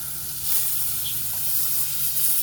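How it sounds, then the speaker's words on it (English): Meat sears in an old pan over a campfire, giving a steady, close, loud hissing sizzle that holds without a break. "now that we've seared both sides of them"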